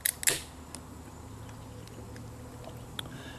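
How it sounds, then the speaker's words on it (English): A 16-ounce can of Tallgrass 8-Bit Pale Ale is opened, with a quick, close metallic crack and a short fizzing hiss right at the start. After that comes quiet room tone with a couple of faint ticks. "let me get this can open"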